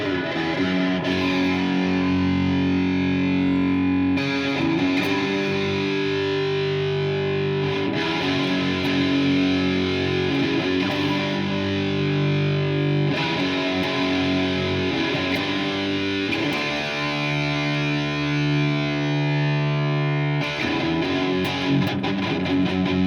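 Heavily distorted electric guitar run through an effects pedal, loud and continuous, with sustained chords and changing riffs filling the whole stretch with no voices.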